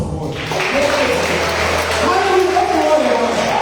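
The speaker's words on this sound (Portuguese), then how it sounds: "Agora aplauda o Senhor" A church congregation claps together in a sustained burst, continuous and fairly loud, while a preacher's voice carries over the clapping.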